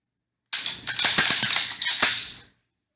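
Star BM 9mm single-stack pistol with its slide racked and action cycled, giving a quick run of sharp metallic clacks and clicks over about two seconds, close and fairly loud.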